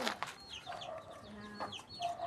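Chickens cluck and squawk repeatedly at close range, a busy flock chattering over each other.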